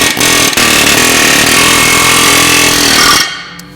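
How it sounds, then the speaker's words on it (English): Loud, rapid pneumatic air hammer pounding continuously at close range to loosen a stuck rear brake rotor on a Toyota Tundra, then cutting off abruptly near the end. "We're going to use this air hammer and just kind of massage it until it breaks free."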